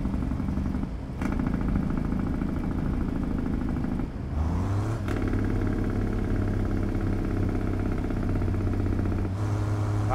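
Heavy truck engine running steadily on a Colombian highway, a continuous loud low drone with brief dips near one second and four seconds where the gear or throttle shifts, then a steady pull again, with no talk.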